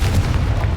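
A Confringo blasting spell goes off in Hogwarts Legacy inside a tomb, a single loud, close, deep boom with a heavy low rumble filling the short burst.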